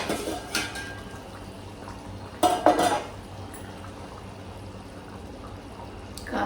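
A ladle clinks against a pot of simmering fish curry made with fish pieces, giving a few sharp metallic taps near the middle over a soft steady bubbling.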